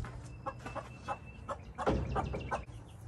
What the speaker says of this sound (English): Let's go check eggs and feed the yard chickens.